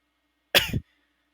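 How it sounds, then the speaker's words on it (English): A single short, harsh cough, close and fairly loud, with quiet before and after. "why am I coughing?"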